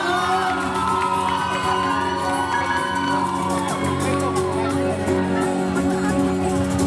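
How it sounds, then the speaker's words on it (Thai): Crowd at a Central mall stage show cheering, whooping and shouting for a Thai band, a steady loud wash of voices with music tones underneath throughout. "ขอเสียงปรบมือดังๆให้ครับ"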